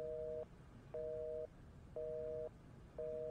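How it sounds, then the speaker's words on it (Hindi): A telephone busy tone after a call is cut off: four evenly spaced, steady beeps, each about half a second long with equal gaps, clear and moderately quiet over faint background hiss. "ऐसे कैसे फोन काट दिया?"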